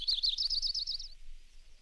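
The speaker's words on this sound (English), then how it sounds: "Tennessee warbler." A Tennessee warbler sings one brief, high, rapid trilling phrase, played back from a vintage LP birdsong record, faint and alone against a low background rumble.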